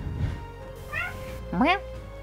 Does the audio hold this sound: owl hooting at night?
no